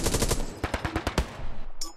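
Rapid machine gun bursts fired from a bunker in the World War II shooter Hell Let Loose on Utah Beach, a loud stuttering string of close shots with brief gaps, tailing off into quieter distant gunfire.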